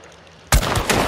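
A single loud gunshot from a LeMat revolver lands a headshot in the video game Hunt: Showdown, a sharp blast that breaks a quiet lull and rings on with echoing tail and rumble.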